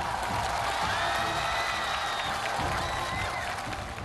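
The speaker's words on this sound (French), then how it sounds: "Elle est applaudie à corps et à cri par les spectateurs" Spectators at a televised challenge show keep up steady applause and cheering for a candidate, a dense wash of clapping with excited shouts and whistle-like cries rising over it throughout.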